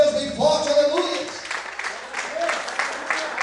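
A church congregation breaking into applause, brisk clapping that rises over a voice, then loosens into scattered claps under continued talk and background sound.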